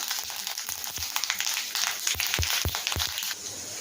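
Hot mustard oil crackles and sizzles as five-spice mix and dry chillies fry, with several sharp pops and spatters standing out close by, no talking.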